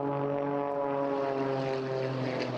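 A propeller aerobatic aircraft flies at the Eastbourne International Airshow, its engine a steady, droning buzz with a strong tonal hum, held at a moderate distance throughout.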